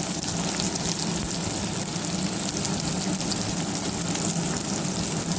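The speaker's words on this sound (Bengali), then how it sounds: "আমরা ভালো করে টমেটো, পেঁয়াজ, তেজপাতা, লবঙ্গ, এই গোটা গরম মশলাগুলো আমরা ভেজে নেবো ভালোভাবে" Tomato, onion, bay leaf, cloves and whole garam masala frying in hot oil for a Bengali potato curry, a steady, loud sizzling hiss that runs unbroken throughout.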